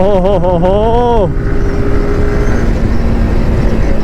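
Yamaha R15 motorcycle engine droning steadily while riding on a long ride, with a rising-and-falling harmonic whine at first, then a continuous loud rumble with wind noise throughout.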